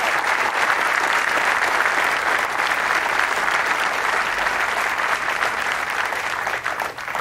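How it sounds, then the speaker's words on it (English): At a 2011 change of command ceremony for the 101st Airborne Division at Fort Campbell, a large audience breaks into loud, sustained applause, a thick wash of clapping that holds for several seconds before easing slightly at the end. "Please join me in a round of applause"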